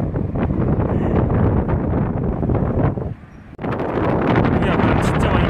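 Strong wind buffets the microphone at the seaside in Saemangeum, Gunsan, on a walk with a bichon frise. The roar is loud and continuous, dips briefly near the middle, then surges again.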